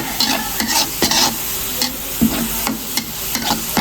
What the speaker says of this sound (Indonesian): Kemudian di sebelah jangan lupa sambil diaduk-aduk si bawang putihnya.